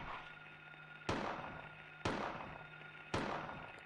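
Three loud, evenly spaced gunshots from Silent Hill on the PlayStation, each a sharp crack that rings and decays over about a second before the next shot, with no talking.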